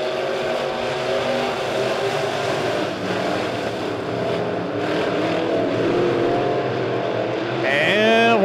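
Midwest modified race cars roar around the Springfield Raceway dirt oval during a heat race, a loud continuous engine drone with rising revs near the end, while an announcer talks over the noise.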